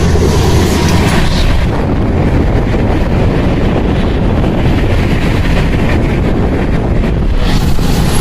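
Bihar Sampark Kranti superfast train running at about 110 km/h while overtaking another express, a steady loud roar of wheels and rail noise with continuous rumble and no voices.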